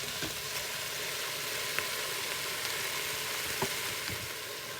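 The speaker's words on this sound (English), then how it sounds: "I'm just going to let that cook for about a minute" A vegan broccoli cheese soup base sizzles steadily in a pot on the stove, a soft continuous frying hiss with a few faint clicks of stirring and no talking.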